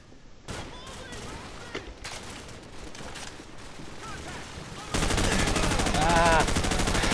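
Gunfire in Call of Duty 4: Modern Warfare, rapid bursts of shots over game ambience that jumps to a dense, loud stretch of continuous firing near the end.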